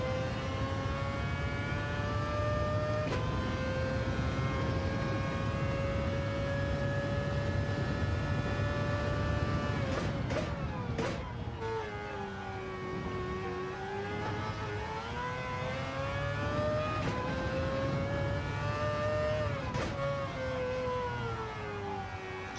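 Race car engine in Gran Turismo 7 on the Nurburgring GP circuit, holding a steady high whine that dips and climbs through gear changes and corners, continuous and prominent with no talk.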